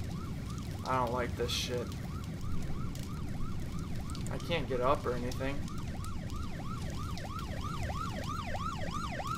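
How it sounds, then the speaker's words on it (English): Police and ambulance sirens wail in the video game Nightmare House 2, with repeated rising and falling sweeps over a steady rain-like hiss. Someone talks over them now and then. "Oh, police! Yes! Ambulance!"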